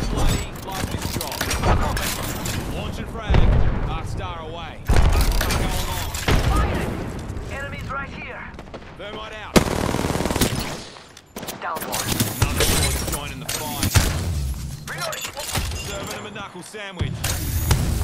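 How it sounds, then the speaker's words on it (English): Gunfire in the battle game Apex Legends: near-continuous loud automatic bursts and heavy booms across the whole stretch, with in-game voice lines and talk layered over the shooting. "Shooting at me."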